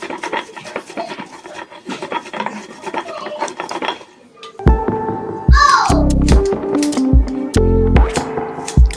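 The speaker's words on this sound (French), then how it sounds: "on continue à écraser jusqu'à la fin. On écrase tous nos condiments." Condiments for a peanut sauce are crushed by hand, making rasping, rubbing scrapes. These are softer and mixed with faint voices at first, then louder knocking pounds and grinding strokes come up close.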